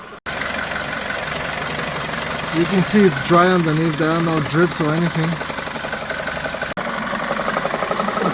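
A BMW G31 former police car's engine idles at operating temperature with a steady, low mechanical drone, while someone speaks close by over it.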